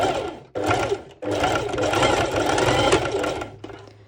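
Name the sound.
sewing machine stitching a bikini top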